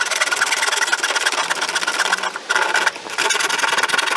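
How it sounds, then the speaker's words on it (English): A power saw cuts a plywood floor panel in a 2005 Chrysler Town and Country van, a steady close buzzing drone that dips briefly twice as the blade eases off, then resumes. "I'm trying to curve a little, and this is not a curvy saw"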